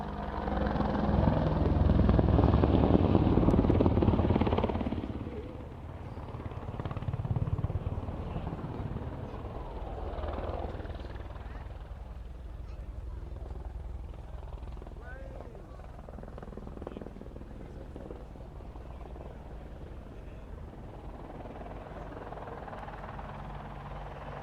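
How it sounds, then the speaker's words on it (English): An Apache helicopter at an RAF airshow roars loudly for the first few seconds, then settles into a steady, more distant rotor and engine rumble as it moves into a hover. An announcer talks over it throughout. "the Apache is now completing a 360-degree wing over and is going to position into the hover in front of us"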